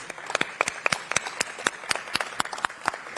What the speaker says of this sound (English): will you all please applaud these interns?